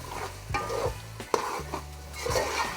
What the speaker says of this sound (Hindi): अब इनको अच्छी तरह से हमने भून लेना है